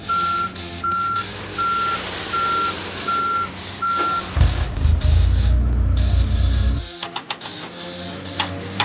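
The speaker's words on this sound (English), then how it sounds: "The truck carrying sand has arrived at the construction site." A toy sand truck on a miniature construction site sounds steady reversing beeps, six evenly spaced tones, followed by a deep rumbling engine surge and a few sharp clicks.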